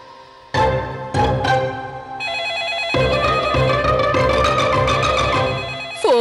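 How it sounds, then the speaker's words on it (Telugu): A telephone ringtone plays loud and close, a melodic electronic tune starting and stopping a few times before running continuously, in a Telugu TV serial scene. "ఫోన్ రింగ్ అవుతుంది."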